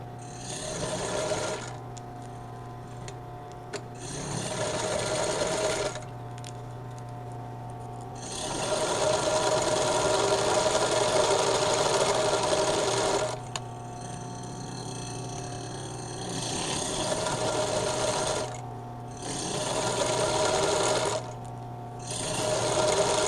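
A sewing machine stitches fabric in bursts, running several seconds at a time with short pauses between runs, close and steady with a whirring mechanical hum and no talk.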